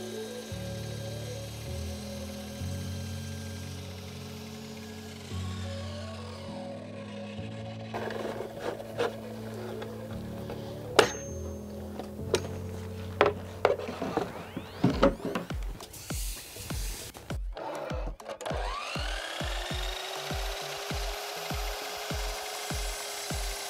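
A circular saw whines up, then bites through chipboard with rough grinding and rasping, followed by a series of rapid knocking clatters as it winds down.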